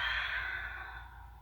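A single soft, slow exhale through the mouth, breathy and close, tapering off over about a second and a half during a seated yoga forward fold.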